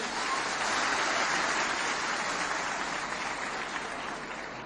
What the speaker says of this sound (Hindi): तो सबके लिए एक बार जोरदार ताली।